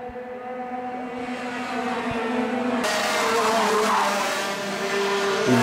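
Race cars on a circuit at Le Coteau, engines droning and rising in pitch as they pass close by, with a louder surge of engine and tyre noise in the second half.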